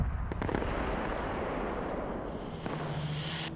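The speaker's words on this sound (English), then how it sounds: "another AGM just came in and smoked my ass" Heavy explosions from air-to-ground missiles in a military video game, a dense rumbling barrage of blasts with a few sharper cracks, loud and continuous throughout.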